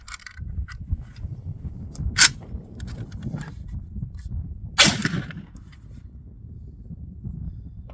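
JTS M12AK semi-automatic shotgun firing Black Aces buckshot with a Pro Mag magazine at an outdoor range, two sharp reports a few seconds apart over steady background rumble and wind, moderately distant.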